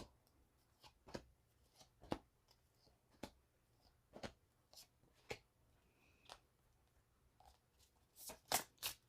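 Soft, intermittent riffling and tapping of tarot cards being shuffled close by, irregular flicks with quiet pauses and a quicker flurry at the end.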